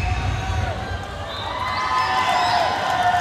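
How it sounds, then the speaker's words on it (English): At a stadium boxing event, a packed crowd roars and cheers after a fight is stopped. The broad, sustained crowd noise swells and holds, loud and continuous, under a commentator's voice. "He is elated, as is the crowd here in Stadium Astora."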